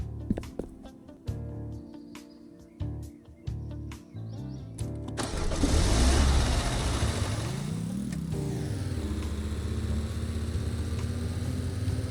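A Regal S car fitted with big wheels accelerates in the Roblox game A Dusty Trip. Scattered chirps and clicks come first, then a loud engine surges in and holds a steady, rising drone for the rest of the run.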